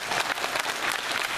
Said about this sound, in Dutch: Dan mag je een groot applaus geven voor de kinderen.